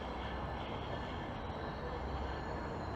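A westbound Lakeshore line commuter train rumbles steadily at a distance from a Toronto station, a faint, even, low drone with no voices.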